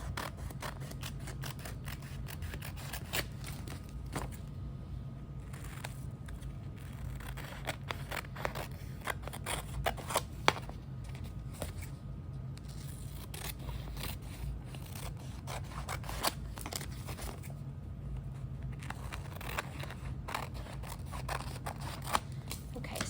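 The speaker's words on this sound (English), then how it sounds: "I'm going to cut away the excess paper, the extra paper." Scissors snipping away excess paper for a collage, a long run of quick close crisp cuts with paper rustling and rubbing between bursts, no speech.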